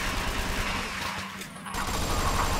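Scar rifle gunfire in the video game Red Crucible 2 rattles out in continuous rapid automatic bursts. The shots are loud and close, with a brief dip in the middle before the firing resumes.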